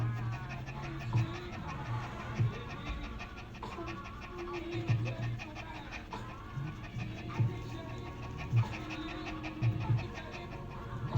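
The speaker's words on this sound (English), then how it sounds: "they're going to have a fit about her panting" A pet dog named Marshmello pants steadily in quick rhythmic breaths close to the mic, with occasional louder huffs and faint background voices.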